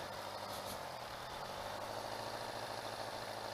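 A 1986 Suzuki GS550L motorcycle engine runs steadily while riding on Long Island roads, a continuous droning rumble with wind noise, close and constant throughout.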